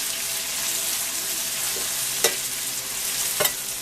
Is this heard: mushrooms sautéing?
yes